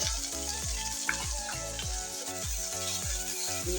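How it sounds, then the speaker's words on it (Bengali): Bitter gourd pieces fry in hot oil with a soft, steady sizzle, while a repeating tonal pattern plays quietly underneath the whole time. "এখন করলাগুলো দিয়ে দেবো। তো দিয়ে দিচ্ছি করলাগুলো"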